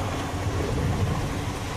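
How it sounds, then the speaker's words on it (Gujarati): Heavy rain pours steadily onto a bridge over the Narmada river, a dense, even roar of rainfall with low rumbling underneath and no voices. "વરસાદ જ એવડું હે"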